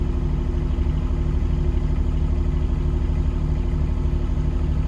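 Engine idling steadily at close range, a low, even rumble with a regular pulsing beat and no revving, no voices over it.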